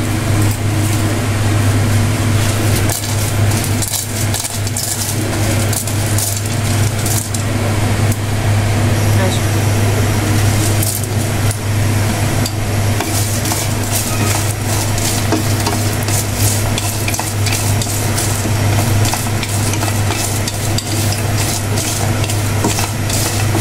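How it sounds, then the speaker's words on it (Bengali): Whole garam masala spices dry-fry in a frying pan, giving a continuous scraping stir and light crackle over a steady low hum. "ফ্রাই প্যানে দিয়ে দিচ্ছি, হালকা করে ভেজে ফেলবো সবগুলো মশলা"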